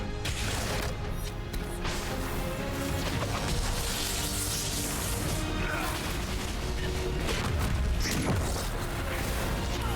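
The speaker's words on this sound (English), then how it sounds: "Oh, that's an explosion." A fantasy explosion in the Dragon Age: Inquisition video game, a dense loud crashing boom inside a constant wash of battle noise and music, with a voice speaking over it.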